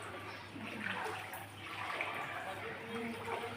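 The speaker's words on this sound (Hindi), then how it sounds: "ये देखें हाफ़िज़ कुरान बच्चे गुज़र रहे हैं पानी के अंदर से" Children wade through standing street floodwater in a flooded neighborhood lane of Zafarwal; steady sloshing and trickling water runs throughout beneath a person talking nearby.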